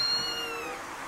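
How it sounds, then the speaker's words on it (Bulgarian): Short video-game cat meow in a blocky Minecraft-style world, a single close, sliding call that fades out quickly over faint background noise. "Хвани котката, хайде."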